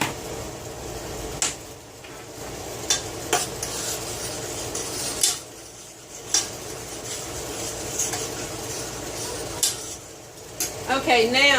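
Garlic sizzles in butter in a pan while chicken is being cooked keto style. A soft frying hiss runs under frequent scraping, stirring and clinking of utensils against the pan, with a voice at times.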